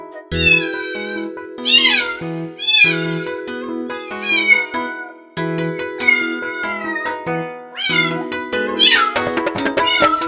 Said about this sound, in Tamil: மியா மியா பூனைக்குட்டி, மீசை முறுக்கும் பூனைக்குட்டி.